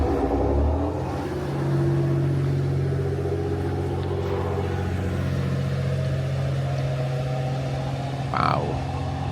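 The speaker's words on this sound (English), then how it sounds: "Single car on that train." A single-car diesel train runs through a remote, snowy Hokkaido line, its low engine rumble and droning hum holding steady at moderate volume, with a brief rising whine near the end.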